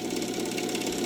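Steady mechanical hum of a vacuum pump drawing the air out of a glass tube holding a penny and a feather, a continuous buzzing drone at even loudness throughout with no talking.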